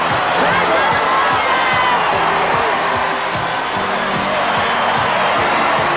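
A large crowd at a Calcio Storico match in Florence roars and cheers continuously, with whoops and shouts rising from a dense, loud wall of voices throughout.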